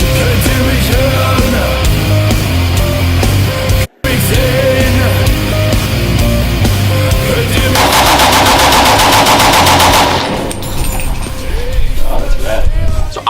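Rapid bursts of German World War II machine gun fire, loud and continuous with dense rattling, heard over a heavy, busy background mix.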